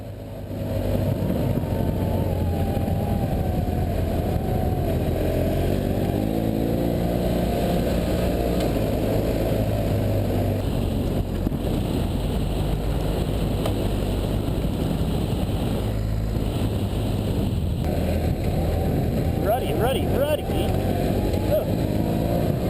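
A BMW F800GS motorcycle rides an off-road trail in a lower gear, its engine a loud, steady, unbroken drone close to the rider throughout.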